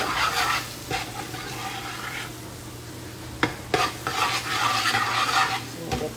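A spoon stirs shrimp stew in a pot over steady sizzling, with a few sharp metal scrapes and knocks against the pot partway through; no one speaks.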